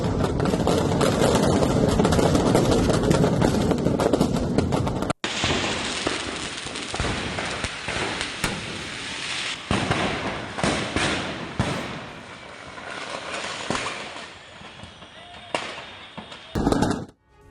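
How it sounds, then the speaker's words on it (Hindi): Stored firecrackers caught in a fire burst one after another in a dense, continuous crackle, loud and close, then thin out into scattered pops and bangs. "देखिए कैसे एक के बाद एक धमाके हो रहे"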